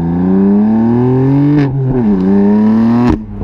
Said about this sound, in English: Under full throttle, the engine doesn't sound that nice.